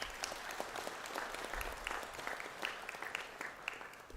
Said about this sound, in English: A round of applause for Victoria